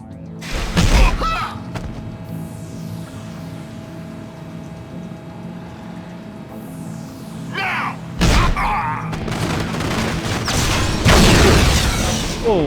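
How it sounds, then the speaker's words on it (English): Loud explosions in GoldenEye: Rogue Agent come as heavy booming bursts, one near the start and a bigger one past the midpoint, with mechanical rumbling and game sounds in between. "Oh, that blew up a lot more than I was expecting it to."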